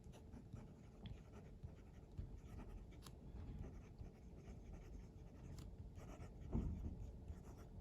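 A Scriveiner Classic fountain pen with a Schmidt nib, filled with Diamine Sherwood Green ink, writes on paper in a continuous, close scratching that is quiet but steady. One slightly louder stroke comes near the end. No one talks.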